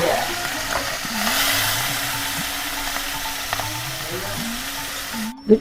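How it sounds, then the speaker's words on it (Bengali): Onion, garlic and green chili fry in hot oil with dried fish nearby, giving a steady close sizzle throughout, with a low hum and a sharp clatter at the end. "পিঁয়াজ রসুন কাঁচামরিচ মানে ফুটকি দিয়ে তেল ভাজি"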